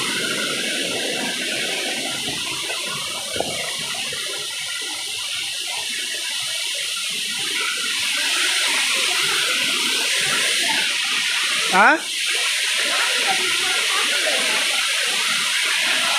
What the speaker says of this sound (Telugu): శబ్దం అంటున్నారా వాటర్ ఫాల్స్ దగ్గరికి వచ్చేసాము